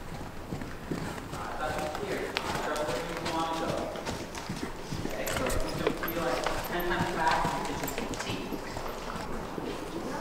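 Horse hooves clip-clop on the ground as a small horse moves with larger horses, a rhythmic patter of steps at moderate distance, partly under someone talking.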